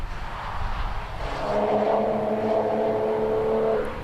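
Aston Martin Vanquish V12 sports car of almost six litres and 450 horsepower, revving loudly nearby; the engine note climbs and holds a steady high rev for several seconds before easing off, with no talk.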